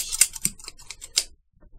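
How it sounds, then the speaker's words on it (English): Scissors snip through a plastic credit card in a quick run of six or seven crisp, close clicks that stop abruptly, followed by a brief quiet rustle. "I'm gonna cut up his credit card with scissors"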